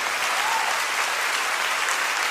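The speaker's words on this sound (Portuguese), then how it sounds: "Dá uma salva de palmas" A church congregation at a fasting-service sermon breaks into a brief, even burst of applause, dense clapping from many hands at moderate volume with no talking over it.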